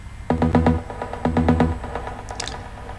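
Trance pluck from a single synth oscillator in Spire, sounding as short, bright rhythmic stabs in two bursts with a delay-like tail, no voices present.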